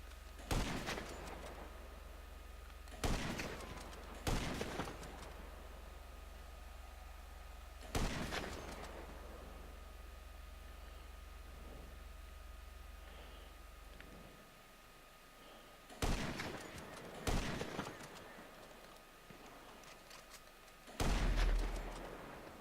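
Enemy gunfire in GTA Online: several separate bursts of loud shots, some in quick pairs, with long quieter stretches between them over a steady low background rumble.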